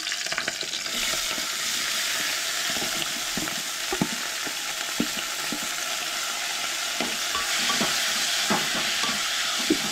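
Prawns sautéing in a pan for a Goan prawn curry, a steady close sizzle with scattered sharp crackles and spatters from start to finish, no voices.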